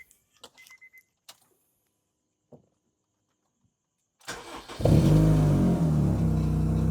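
A Honda Civic is started after leak repairs: a few quiet clicks and jangles, then the starter cranks and the engine catches into a loud, steady idle close by.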